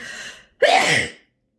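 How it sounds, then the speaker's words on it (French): A sharp inhaled buildup followed by a single loud, abrupt allergic sneeze close to the microphone, then silence. "des crises d'éternuement à n'en plus finir"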